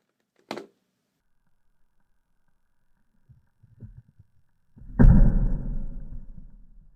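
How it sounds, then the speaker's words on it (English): A small plasticine toy car dropped in a homemade crash test lands on its rear with a single close, dull thud that rings out briefly, after a sharp click and a few faint soft knocks. "Now I'll drop the car again, but this time on the rear."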